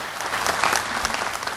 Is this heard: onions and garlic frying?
no